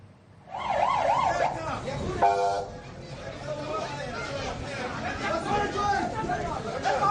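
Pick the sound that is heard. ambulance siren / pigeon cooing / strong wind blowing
ambulance siren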